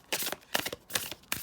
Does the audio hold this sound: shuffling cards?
yes